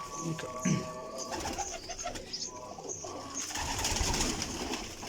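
Pigeons coo at a breeder's loft among baby pigeons, soft repeated calls blending with other chirps and rustling, while someone talks nearby over a steady background.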